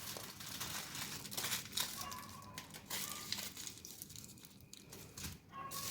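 Dry fruit and date rolls being wrapped in aluminium foil: soft continuous crinkling and rustling of foil up close, with irregular crackles throughout.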